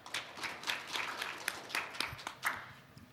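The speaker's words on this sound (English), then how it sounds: "please join me in welcoming our presenter with a big round of applause." Audience applause welcoming a presenter at an international connectivity forum session, a scattered round of clapping with distinct sharp claps over a soft bed, moderately distant and tapering off toward the end.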